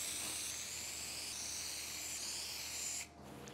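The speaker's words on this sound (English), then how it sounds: "So then we're gonna spray our adhesive." Adhesive spray hisses steadily onto fabric for lining a Ford Transit van, one continuous loud close blast lasting about three seconds before cutting off into quieter room tone.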